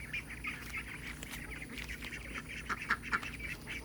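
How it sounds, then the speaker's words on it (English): Soft, high-pitched peeping and small quacks from young ducks on a homestead, scattered and intermittent over a low background hum. "there's the baby ducks"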